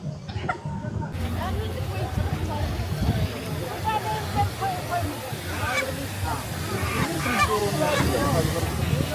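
Chickens squawk and cackle loudly and continuously inside a car, with a constant rough clamour of calls and people talking among them.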